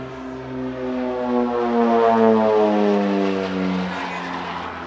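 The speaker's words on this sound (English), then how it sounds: "This is actually a former target tug, an ex-German OV-10B, but it's been dressed up as a combat machine" A former German target tug, an OV-10B dressed up as a combat machine, passes at an airshow. Its twin turboprop drone swells and shifts pitch as it flies by, fairly near and steady.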